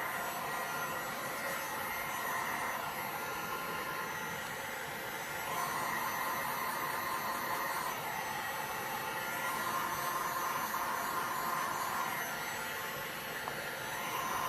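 Heat gun blowing hot air over resin on a large sculpted black, white and gold bowl platter, a steady, close, even rushing hiss that runs without a break.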